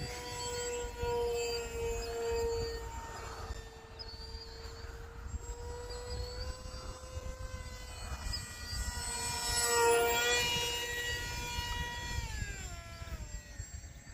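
A HobbyZone Aeroscout S 1.1m model plane's motor whines steadily overhead, its pitch rising and falling as it flies, with faint outdoor background noise and no talking.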